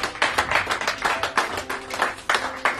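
A church congregation claps together in praise of Jesus, with steady, fairly quick rhythmic clapping that is close and lively, and no voices over it.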